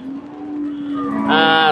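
A bull calf lets out a drawn-out moo that rises into a louder, harsher bellow near the end, close by on a farm in Chittagong, with faint background noise.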